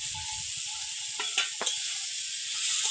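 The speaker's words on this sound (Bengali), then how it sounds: "দেখুন মশলাটা কষিয়ে নিয়েছি, এবার মাছগুলো মশলার মধ্যে দিয়ে দেবো।" Fish pieces, pakal fish, go into a pan of cooked spice paste, a constant sizzling hiss broken by a few brief scraping bursts near the middle, close and steady with no voices.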